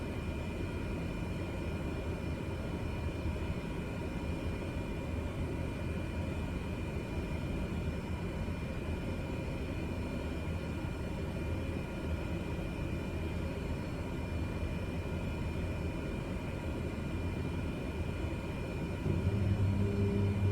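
Airplane engine hums at idle before takeoff, a low, even, muffled drone heard from inside the cabin, growing slightly louder near the end.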